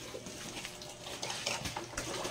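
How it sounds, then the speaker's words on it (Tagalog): Water poured into a container to dissolve dextrose powder for a pig's drinking mix, a steady close splashing trickle with brief gushes, faint and alone. "Lagyan ng tubig para ma-dissolve."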